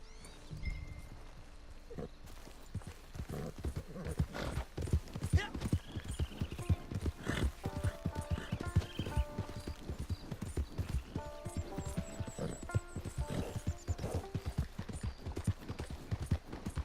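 Horses in Red Dead Online trot with a steady, close clip-clop of hooves, accompanied by occasional snorts and a brief whinny, while game music tones play underneath.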